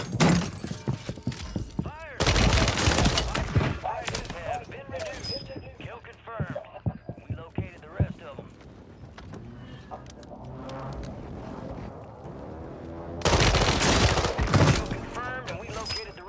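Bursts of automatic gunfire and impacts from the Warzone 3 video game, featuring a Renetti pistol, come in loud rapid volleys at the start and end with scattered shots between, while a player talks over the action.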